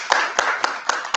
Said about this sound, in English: Let's give Dr. Rick Hardy another round of applause.